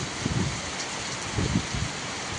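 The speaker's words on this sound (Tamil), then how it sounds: "சோழவந்தான் காமராஜர் பாலம் அருகே பலத்த மழை பெய்து சாலையில் நீர் பெருக்கெடுத்து ஓடியது" Heavy rain pours near the Kamarajar bridge in Sholavandan, with water running across the road, a dense, continuous hiss that swells in a few low rumbling surges.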